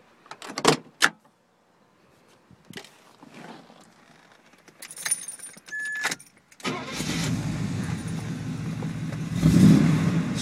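A custom Corvette Stingray road racer with Edelbrock top end and Baldwin Motion air cleaner gives a few clicks and clunks, then cranks and fires into a loud, rough, steady idle up close.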